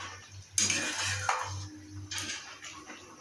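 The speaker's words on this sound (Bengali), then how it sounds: "মিষ্টি কুমড়োটা দিয়ে দিচ্ছি। কুমড়ো হচ্ছে সব দিয়ে এবার নেড়ে নিলাম।" Pumpkin pieces stirred in a pot while cooking pumpkin payesh, with a few scraping and clinking strokes of a spoon against the pot over a low steady hum, close and fairly quiet.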